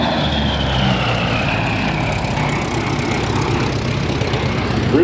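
A P-38 Lightning, a twin-engine propeller fighter, drones steadily past at an airshow, its engine note sustained and moderately loud with a faint descending whine overhead.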